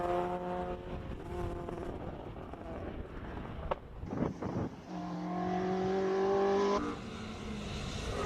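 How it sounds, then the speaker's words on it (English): Little normally aspirated 2-liter four-cylinder Pinto-engined Ford Escort race car leaving the start line at a classic car sprint in Cape Town, engine revving through rising and falling gear pulls, with a brief break in the note, fairly near. "Aldo Scribanti just leaves the start line with a little 2-liter Pinto Escort"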